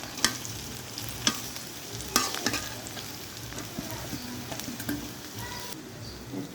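Bitter gourd and potatoes fry in a pan with ginger and onion, a steady close sizzle broken by sharp scraping clacks of a spoon stirring at irregular intervals.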